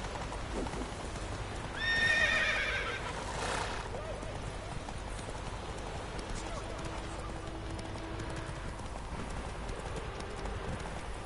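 Roach, a horse in The Witcher 3, gallops with a steady rapid clip-clop of hooves and gives a loud whinny near the start, while a voice sounds over it.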